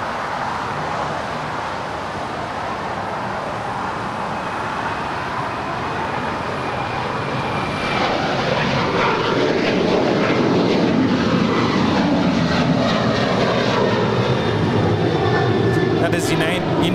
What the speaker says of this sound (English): United 1621 departing to Orlando, a 7-year-old 737-900ER